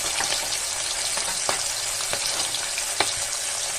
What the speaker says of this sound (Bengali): এখানে মাছটা ভাজতে বসিয়ে দিয়েছি।